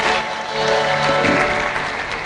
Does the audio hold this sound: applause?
yes